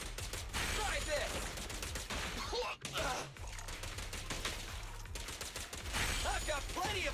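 Repeated bursts of video game gunfire crackle through a busy, loud battle mix, with voices speaking over the shooting.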